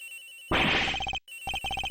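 A cell phone rings in the Ace Attorney Investigations game as bright, chirpy electronic tones in a repeating pattern. A brief noisy burst comes in at the start and the ringing cuts out once before resuming, with no talking.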